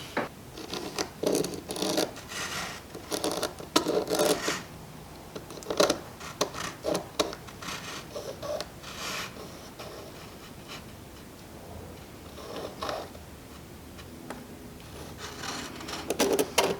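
A pencil or marker draws tenon lines on a wooden breadboard end. Short scratchy strokes come in irregular bursts, close up, with quiet gaps between them.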